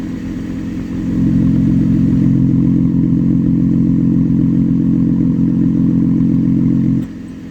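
An engine idles through an exhaust with a muffler delete cut-out, a loud, steady low rumble that swells in after a second and holds before cutting back at the end.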